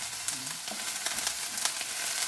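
Beef and broccoli with oyster sauce sizzles steadily as a stir fry in a hot pan, a dense hiss with occasional crackles and scraping from stirring, close up with no voices.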